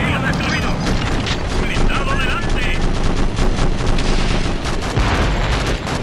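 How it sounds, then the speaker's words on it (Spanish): Dense, loud gunfire in the video game Conflict: Desert Storm 2, with rapid machine-gun bursts and booming blasts running continuously, while someone talks over it in Spanish. "disparando a tope a todo lo que se mueva"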